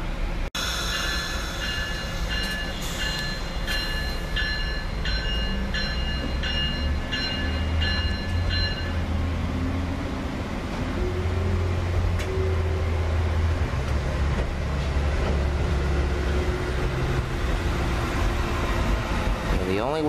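An ACS64 electric locomotive, number 601, passes through Paoli station running without its headlights, a steady loud rumble of railcars and wheels lasting throughout, with a high ringing tone early on and faint voices underneath.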